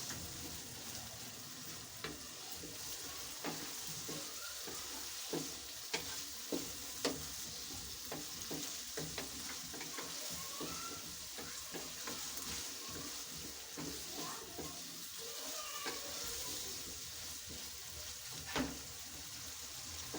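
Boiled chickpeas are stirred and dried out in a hot pan, giving a steady soft sizzle with scattered scraping clicks from the spoon, faint and continuous without talk.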